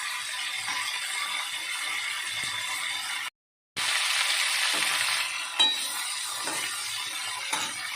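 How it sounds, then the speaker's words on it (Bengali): Potatoes and cauliflower fry in a pan for a Bengali cauliflower-potato curry while being stirred: a steady close sizzle with a brief dropout to silence and a few light clinks of the utensil. "এরকম ভালো করে নাড়িয়ে নেড়ে আর কপি আলুটা ভেজে নিতে হবে"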